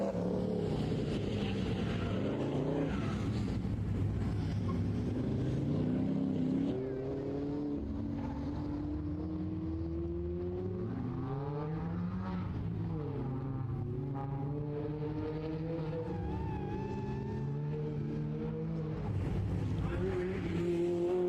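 A car races hard through an autocross course, its engine revving up and down through shifting pitches for about twenty seconds, with tire noise and a faint underlying hum.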